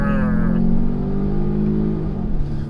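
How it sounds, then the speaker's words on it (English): The four-cylinder engine of a 2020 Volvo XC90 T8 plug-in hybrid SUV starts and revs up with a rising growl, settling into a steady rumble at close range, loud and continuous. "The four-cylinder doesn't sound that bad."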